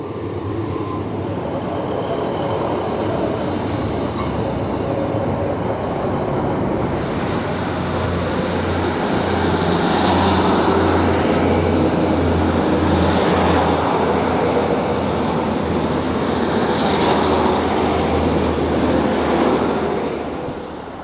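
British Rail Class 150 and Class 156 diesel trains at Liverpool South Parkway station give a broad rumbling roar with a low engine drone that builds midway and stays loud, with wind-like rushing noise and no talking.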